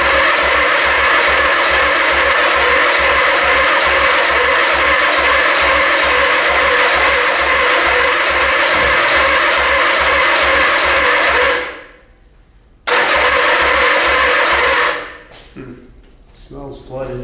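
A 1979 Suzuki GS motorcycle engine cranking and running on choke, a steady loud pulsing mechanical churn that suddenly cuts out, restarts briefly, then stops, leaving a person talking.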